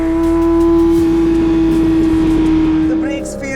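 Porsche 911 GT3 RS accelerating hard on a track with DRS open, a loud steady engine drone with strong tonal whine held close throughout, fading slightly at the end as a voice comes in.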